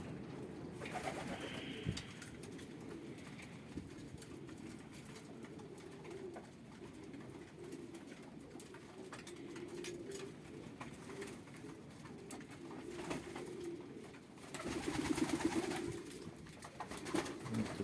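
Pigeons coo softly and repeatedly in a low, burbling murmur, with wing rustles and faint background noise throughout.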